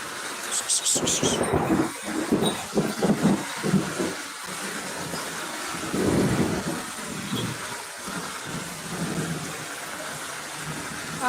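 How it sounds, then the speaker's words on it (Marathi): Heavy rain pours down steadily at a goat farm in Ambejogai taluka, Beed district, with a low thunder-like rumble rolling through; sound is close and continuous, with no clear talk. "बघा असा पाऊस चालू आहे"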